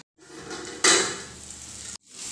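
A lid is set onto a cooking pot of spiced paneer dish with one sharp metallic clank. The pot keeps hissing softly before and after, and the sound cuts off abruptly near the end.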